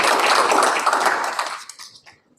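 Attendees at a library commission meeting applaud with dense, close clapping that holds steady, then thins out and fades to silence within about two seconds.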